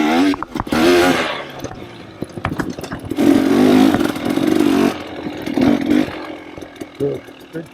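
A KTM or Beta dirt bike engine revving in sharp bursts, rising and falling, loud and close, with a rider's voice in between.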